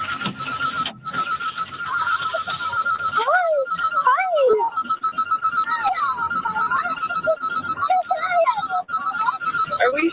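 A phone rings during an outgoing call, its repeating electronic tones persisting through the whole stretch, with sweeping tonal sounds and some voices layered over it.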